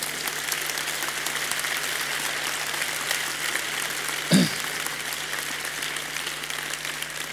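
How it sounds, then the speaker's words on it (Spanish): Audience applause fills the whole stretch at a talk on education, a steady wash of many hands clapping with one brief thump partway through. "Esto ya es de aplauso. Vamos a aplaudir."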